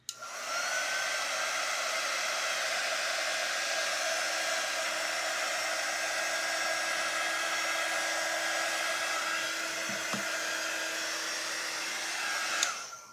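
A hair dryer blows steadily and loudly for the whole stretch, drying smudged paint on a cactus craft, with a faint click near the end and no talking.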